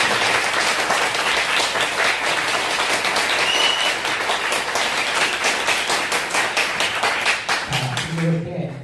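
A church congregation applauds loudly and steadily for several seconds, the clapping thinning out near the end as a voice begins to speak.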